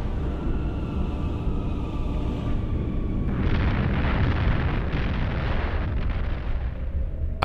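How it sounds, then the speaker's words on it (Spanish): Artillery fire and bombing over wartime Berlin make a continuous rumbling roar of distant explosions, and the din swells louder partway through. "El sonido del fuego de artillería en la distancia"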